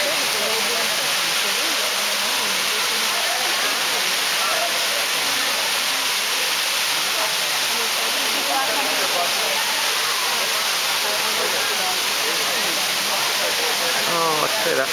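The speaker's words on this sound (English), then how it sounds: "that waterfall is a good 50 feet. Hundreds of gallons a second there." Roaring waterfall at Ash Cave in Hocking Hills, a tall drop of about 50 feet pouring heavy volume, giving a steady, dense broadband rush that stays constant and close throughout.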